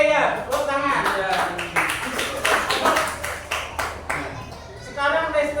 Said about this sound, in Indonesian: Oke ya, tepuk tangan ya.